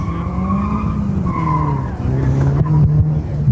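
A 1968 Camaro races through an autocross lap, its tires squealing through the corners over a loud, close engine note that rises and falls as it accelerates.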